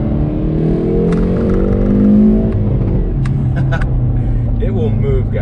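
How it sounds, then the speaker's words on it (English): A 2019 Hyundai Veloster N engine revs and pulls hard after a downshift into second gear, the rising tone heard from inside the car with a shift partway through, while someone talks over it. "I'm gonna downshift it into second."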